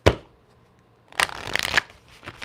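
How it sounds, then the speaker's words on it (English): A short snap of cards, a pause, then a quick riffle shuffle rattles close by, ending with a light tap; no voices. "so quick shuffle"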